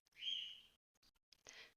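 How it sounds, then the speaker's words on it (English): Pet parrots chirp and whistle in a bright, high chorus: a sustained trill first, then a brief chirp and a short burst of chatter, fairly close and with no talking. "my parrots who can hear me talking and want to join in, so I apologize for their background chorus"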